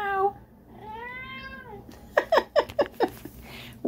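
A male cat meows loudly, with two drawn-out meows followed by a rapid run of short, choppy mews, close to the mic in a quiet room.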